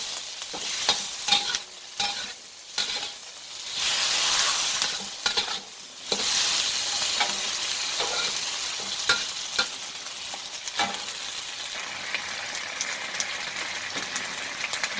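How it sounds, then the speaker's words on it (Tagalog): Sweet and sour chicken sautéing in ketchup in a pan, with steady close sizzling and frying plus repeated stirring scrapes, moderately loud and continuous with no talking. "Dapat gisa-gisa natin ito sa ating ketchup para matulad."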